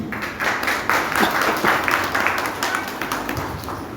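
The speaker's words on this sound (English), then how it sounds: "Give a round of applause for PGCE scholars" Sustained applause from an audience at a school program, dense clapping that rises quickly and continues steadily at a moderate level throughout.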